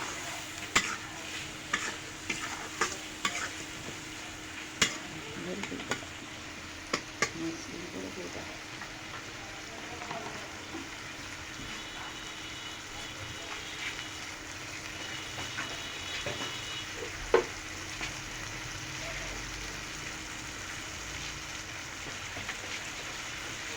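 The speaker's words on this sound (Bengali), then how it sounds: "এখন আমি ভালো করে নেড়ে সেড়ে একটু বেজে নেই" Spices with ground coriander stirred and fried in a pan for a bitter gourd and prawn stir-fry, a continuous low sizzle broken by repeated spatula scrapes and taps, close by.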